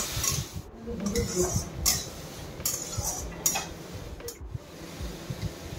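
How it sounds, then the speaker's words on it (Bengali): Carrots and capsicum frying in a pan, with close metal spatula scrapes and clinks against the pan at irregular intervals over a steady low hiss. "এখানে গাজর আর ক্যাপসিকাম তো দিয়ে দিলাম, এবার এগুলোকে ভেজে নেব।"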